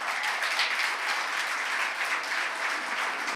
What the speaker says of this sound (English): Parents, let us give a big round of applause.